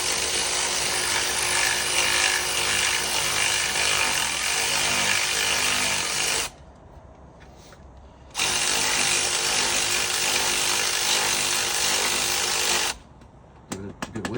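Two long, loud bursts of a power tool driving a bolt during a Harbinger supercharger install on a BMW E36 318ti, each running several seconds with a brief quiet gap between.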